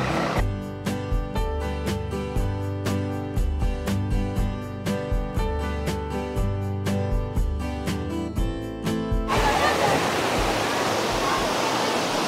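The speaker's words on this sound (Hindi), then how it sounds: "ये देखिए ओए होए कितना तेज झरना आ रहा होगा" Neer waterfall near Rishikesh roars steadily, a loud continuous wash of rushing water, at first under rhythmic music that cuts off partway, leaving the water alone.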